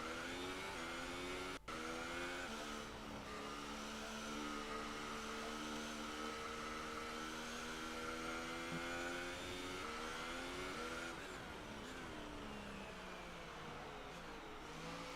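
A race car engine in a racing video game hums under steady, gentle throttle, a continuous droning tone whose pitch slowly wavers and rises slightly near the end, heard alone at a low level.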